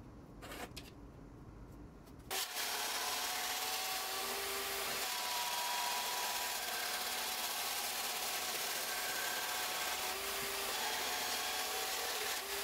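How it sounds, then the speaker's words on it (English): 2x2 square steel tubing being cut in a metal shop, a loud, continuous, harsh grinding roar that starts abruptly after a brief quieter opening and holds steady throughout, with no voices. "Here I'm cutting some 2x2 square tubing that I'm going to be using for my canister"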